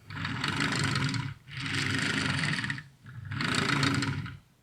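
The hub wheels of a LEGO landspeeder roll across a hard surface in three rough, scraping bursts, each about a second long with short pauses between them. The noise is close and grinding and sounds like an engine.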